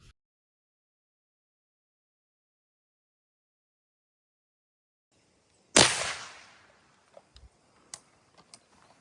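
A single 300 Blackout round, a Hornady 110 grain VMAX, is fired into drywall: one sharp, loud crack with a short decaying tail after several seconds of silence, then a few faint clicks.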